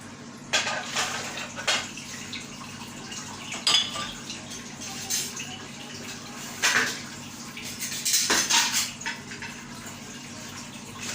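Dishes are washed by hand: running water splashes in bursts while plates and cutlery clink and knock now and then, close by.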